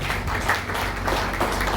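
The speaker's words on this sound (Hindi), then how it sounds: "एक बार जोरदार तालियां आपके लिए" Applause from the audience at a Brahma Kumaris ashram gathering, greeting a former Vice Chief of the Navy, a steady continuous clapping of many hands throughout the short moment.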